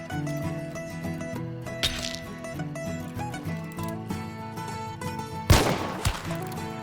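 Gunfire at a video game shooting range plays over a steady musical backdrop, with a faint shot early on and one loud, close report near the end, followed by a smaller echoing crack.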